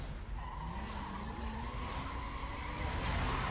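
Cars in a long Need For Speed Most Wanted drag race hold a steady engine whine and tyre hiss, with pitch slowly climbing as the racers accelerate at full, continuous loudness.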